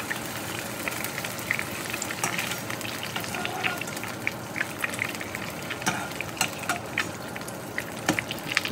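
Beef strips fry in oil in a pan, giving a soft, continuous crackling sizzle with scattered pops. It stays fairly quiet and nearby, with no speech.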